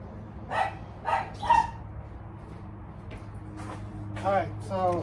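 A dog barks in several sharp, close bursts, first three evenly spaced barks and then a cluster near the end, over a steady low hum with some faint talk.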